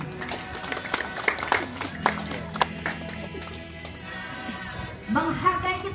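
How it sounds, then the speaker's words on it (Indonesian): Applause at the inauguration of a new Pentecostal church building in Papua, a steady, moderately loud patter of many hands clapping, with voices and a raised crowd swell toward the end. "Kita berikan aplaus untuk kebersamaan ini sekali lagi."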